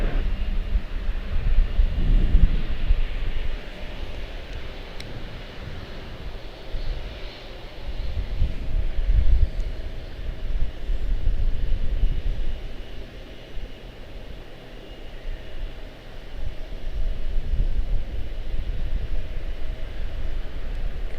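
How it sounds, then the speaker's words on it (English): The engines of an Airbus A321neo airliner rumble and whoosh at an airport, sounding fairly distant and swelling and fading in waves over a steady broadband roar. "That's an A321 Neo."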